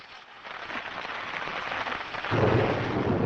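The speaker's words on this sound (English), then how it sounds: "in the forest the rain melts the last of the ice" Rain falls in a forest, a steady hissing patter that builds and grows louder toward the end, with no voices.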